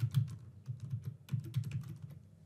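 Quick keystrokes on a computer keyboard, a short burst of soft, close clicks in an uneven rhythm, fairly quiet and with no voices.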